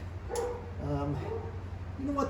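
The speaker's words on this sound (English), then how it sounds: "sorry about the dog fight" Dogs barking and yipping in a brief scuffle in a garage beside a Jaguar XJS being worked on, close and moderately loud, with someone talking over them.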